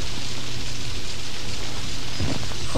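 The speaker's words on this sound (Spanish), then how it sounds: "Anda, está lloviendo." Steady rain pouring in the video game Outlast, a loud, even hiss of falling water with no letup and a faint low rumble underneath.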